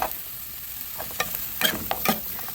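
Onions and green chillies frying in hot oil for a potato kurma, a close crackling sizzle punctuated by several sharp stirring scrapes and spatters, with no voices.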